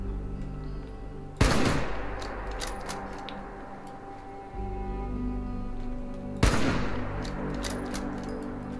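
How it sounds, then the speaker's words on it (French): Two loud sniper rifle shots in the video game Fallout 76, each a sharp crack with a ringing tail, several seconds apart over a steady low game ambience. "je mettrai un silencieux sur... sur le fusil sniper, parce que en fait ça fait beaucoup trop de bruit"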